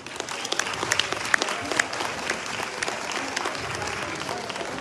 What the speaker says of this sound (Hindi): इनके लिए तालियां चाहिए।